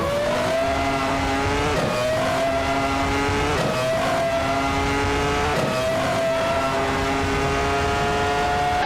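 A Williams FW18 Formula race car engine screams in a racing video game, its high whine climbing through repeated gear changes with brief dips between upshifts, loud and continuous with no talk.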